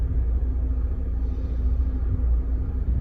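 Low, steady engine rumble from a 1996 Alfa Romeo Spider idling in traffic, continuous and unbroken throughout with no voices.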